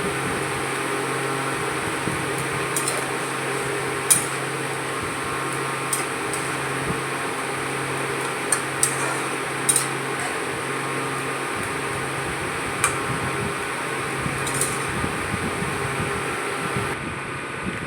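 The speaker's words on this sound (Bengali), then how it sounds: "এখানে ধনে আর আদা আমি বেটে নেব" Coriander and ginger ground into a paste for a Bengali paneer shukto, heard as a steady, close motor whir with a few light clicks that stops abruptly near the end.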